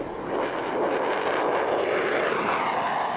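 F-35 Lightning II stealth fighter jet flying: a loud, steady, broadband engine roar that holds for the full stretch without a break, with no talking.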